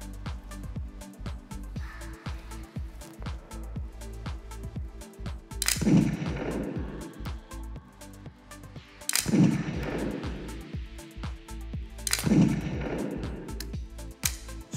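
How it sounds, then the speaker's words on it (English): Three simulated gunshots from a FATS 100P firearms training simulator, evenly spaced loud booming reports a few seconds apart over a steady mechanical background with faint clicking, no talking. "So, three shots."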